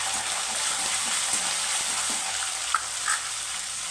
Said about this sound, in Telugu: తాలింపు అయితే ఇట్లా వేగింది కదండి.